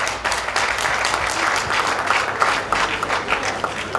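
Audience applause at a graduation ceremony, a steady dense wash of many hands clapping throughout, fairly loud and unbroken, with no voice on top.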